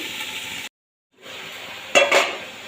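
Bottle gourd cooking in a pan is stirred, with a steady sizzle broken by a brief pause and then a couple of close utensil scrapes against the pan near the end.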